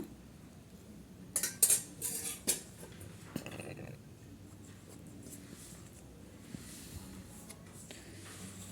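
A spoon knocks and scrapes against a bowl in a few sharp clatters while yeasted pizza dough is mixed with oil by hand, followed by quieter, soft working of the dough with no talking.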